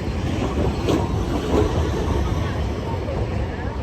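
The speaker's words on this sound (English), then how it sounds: "There's a train." A train rolls past in Matsuyama, Ehime, a continuous rumbling wash of wheels and track noise at fairly close range that holds steady for several seconds with no clear talk.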